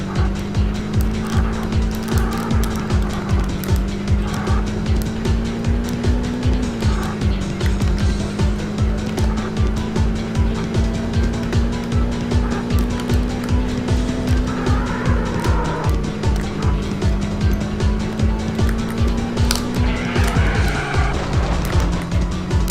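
A car skidding under handbrake use during a time-trial run, a loud, continuous engine drone with a sustained tonal tire squeal that rises and falls over the whole stretch.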